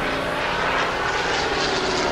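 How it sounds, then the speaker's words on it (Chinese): Japanese bomber aircraft engines over wartime Nanjing in a radio drama, a loud continuous propeller drone with a thick rumbling texture that holds steady throughout, close and with no voices. "德章，飞机来了，快进来"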